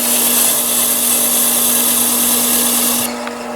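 Gemstone being ground on a heavy-grit lap: a steady, loud whirring grind with a constant motor hum, running evenly until the final half-second, when it drops off and the motor tone continues more quietly.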